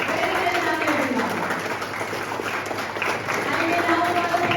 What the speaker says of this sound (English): A round of applause for the energetic drill session, everyone